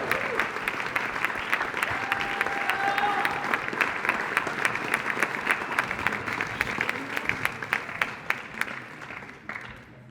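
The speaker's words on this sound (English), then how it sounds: "let's keep that applause going for him" Sustained, dense applause from an audience at a teen awards ceremony, steady and fairly loud throughout before tapering off at the end, with a voice briefly audible over the clapping.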